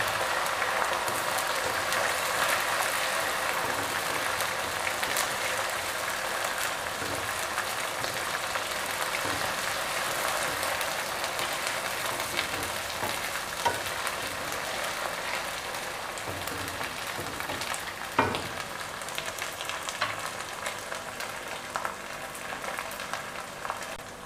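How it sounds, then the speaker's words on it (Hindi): Ginger garlic paste sizzles and fries in a pan with onions for a meat and lentil curry, a steady dense crackling hiss that stays loud and even throughout, with no one talking. "अब हम इसमें लहसुन अदरक का पेस्ट ऐड कर लेते हैं। और इसकी हम तकरीबन 2 मिनट तक अच्छी तरह से भुनाई कर लेते हैं।"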